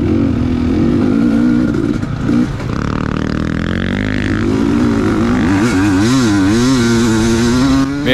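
An off-road racing motorcycle, bought new in 2019, tears fast along a dusty track in the Swamp Rat GP race, its engine revving loud and close with shifting pitch as it accelerates and backs off.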